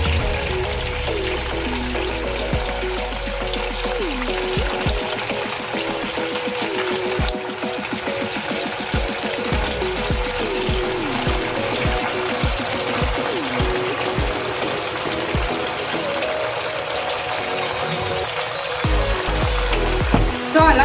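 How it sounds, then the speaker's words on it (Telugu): Chicken pieces deep-fry in hot oil for a Godavari-style spicy chicken pickle, a steady bubbling hiss with irregular pops and crackles that runs on for a long stretch alongside a low background hum. "సో అలా కొంచెం చికెన్ని మనం ఆయిల్లో వేసుకుని ఫ్రై చేసుకుంటూ చేసుకోవాలన్నమాట."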